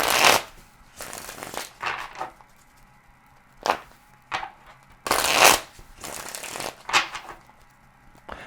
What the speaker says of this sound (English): we're going to give the construction cards a good shuffle